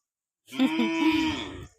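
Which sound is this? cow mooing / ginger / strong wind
cow mooing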